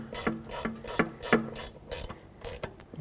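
A hand ratchet clicks in quick, even bursts about twice a second, close and fairly quiet, while a banjo bolt is tightened on the rear brake caliper of a 2001-07 Toyota Sequoia, with no talking.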